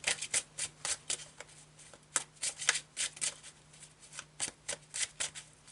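Tarot de Marseille cards being shuffled by hand, a run of crisp riffling bursts repeating in a steady uneven rhythm, close and fairly soft with no talk.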